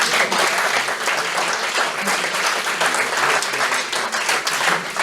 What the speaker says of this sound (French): je pense qu'on peut les applaudir déjà pour